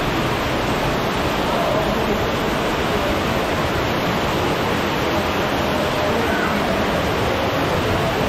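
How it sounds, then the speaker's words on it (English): Waterfall at the Grand Hyatt Baha Mar pool in the Bahamas, a steady broadband rush of falling water, loud and close with no pauses for the whole stretch. "I'm back at this waterfall pool."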